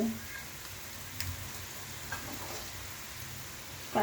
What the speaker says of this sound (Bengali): এগুলো সব নাড়াচাড়া করবো এগুলো একটু ভাজা ভাজা হোক